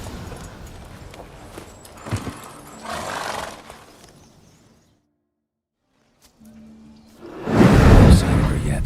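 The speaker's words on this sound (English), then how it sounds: "Whoa there, Roach." Horse whinnying and trotting in The Witcher 3, with a loud burst of hoof and snorting noise near the end after a silent gap, preceded by softer game movement sounds and swishes.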